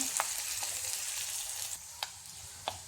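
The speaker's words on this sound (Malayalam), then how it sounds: "അതിലേക്ക് ചെറിയ ഉള്ളി അരിഞ്ഞതും കറിവേപ്പിലയും രണ്ട് വറ്റൽമുളകും ഇട്ട് കൊടുക്കാം എന്നിട്ട് ഇതൊന്ന് വഴറ്റി കൊടുക്കാം" Shallots, curry leaves and dried red chillies sauté in a pan for a Kerala kootu curry, giving a steady close sizzle broken by a few sharp stirring clicks.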